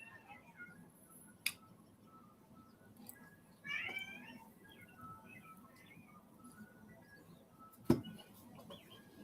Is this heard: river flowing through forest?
no